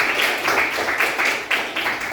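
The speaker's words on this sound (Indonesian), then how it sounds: "tepuk tangan untuk kita semua" Children clap their hands together in a classroom, a dense, steady patter of many small hands that swells in a few bursts over a couple of seconds, with no one speaking.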